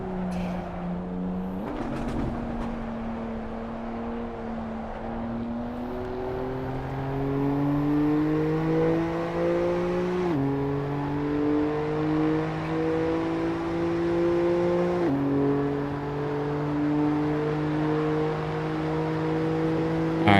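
A car engine in the racing game Assetto Corsa Evo drones steadily and revs up in stages, pitch climbing through several gear shifts, loud and close with no talking.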